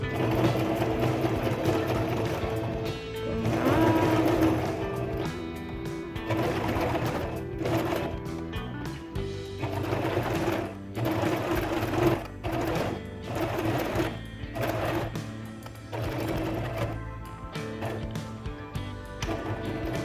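A sewing machine back-stitching through denim for a reversible jeans basket, running in repeated short bursts with brief pauses between passes, close and steady throughout.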